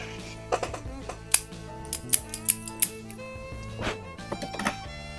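A Diamond Crown Maduro cigar by JC Newman is cut with a cutter, giving several crisp, close snips and clicks scattered over a few seconds against a quiet indoor background.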